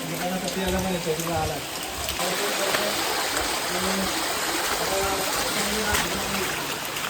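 Heavy monsoon rainwater rushing and flowing in the Konkan countryside, a dense continuous wash of water and rain noise with people talking over it outdoors.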